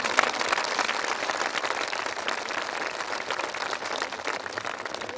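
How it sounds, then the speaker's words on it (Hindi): Audience applause at a Brahma Kumaris land-worship and dedication ceremony in Bahadurgarh, a dense, steady burst of many hands clapping that holds loud throughout, with no talk over it. "इन सब के लिए ताली बजाओ।"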